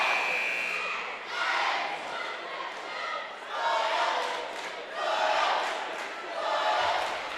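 At a girls varsity high school basketball sectional game, a cheer block and cheerleaders shout rhythmic chants in repeated bursts that swell and fade about every second or two, loud and crowd-like.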